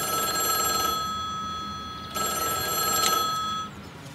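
A telephone rings loudly with a bright, sustained electronic bell tone, sounding twice with a brief gap between the two rings.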